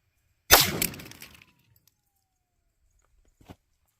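A Mosin rifle gunshot goes off in one loud, sharp crack with a decaying ringing tail, followed by near silence and a faint knock later.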